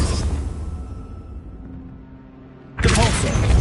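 A Confringo fire spell cast in Hogwarts Legacy: a low rumbling swell fades quiet, then a sudden loud burst of fiery whooshing noise erupts and sustains to the end.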